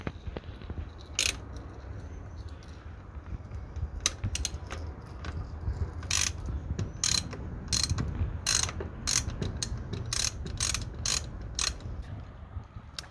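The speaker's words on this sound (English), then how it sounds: "So it's pretty straightforward using this ratchet." Close, crisp ratchet clicks loosening the sump plug on a Lotus Exige S, arriving in short bursts and quick runs of strokes over a low workshop hum, with no talk.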